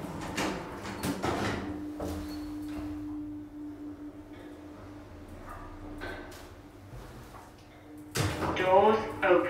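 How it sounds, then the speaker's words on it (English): Doors of a 1993 VAC-controlled express lift in Weston-super-Mare slide shut, with a steady hum and thuds near the start and a synthesized voice announcement, followed by a closing clunk and a chime near the end. "Doors closing."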